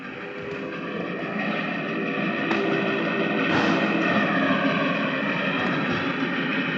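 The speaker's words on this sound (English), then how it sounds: "Here's the sound of the whistle." A recorded whistle of a Pennsylvania K4 steam locomotive plays back as a sustained, chord-like tone that holds steadily and swells slightly in the middle, with no talking.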